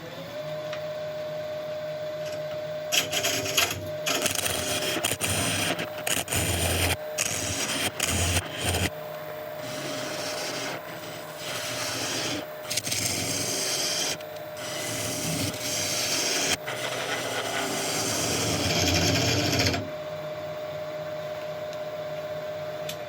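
A wood lathe spinning as a tool slowly cuts away a tenon at the tailstock end, steady motor hum under repeated rasping, scraping cuts that stop and start in short bursts.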